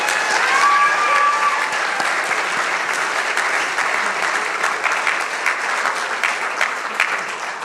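Sustained audience applause at an awards presentation, a steady dense wash of many hands clapping that holds throughout and tapers slightly toward the end.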